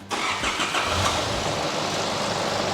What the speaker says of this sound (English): The belt's back on, so now we're going to give it a start up.